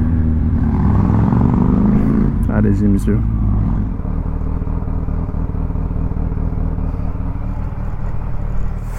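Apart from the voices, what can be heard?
Harley motorcycle engine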